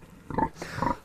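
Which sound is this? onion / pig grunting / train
pig grunting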